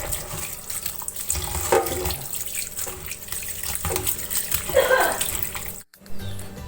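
Mushrooms are washed under running tap water, a steady close splashing stream into a sink with shifting gurgles and a brief interruption near the end.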